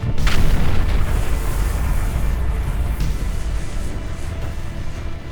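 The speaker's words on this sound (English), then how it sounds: "Within a matter of seconds, a HIMARS rocket flies in." A HIMARS rocket strike blasting a Solntsepek thermobaric flamethrower system, a heavy boom opening loud and then rolling on as a long, dense low rumble with no voices.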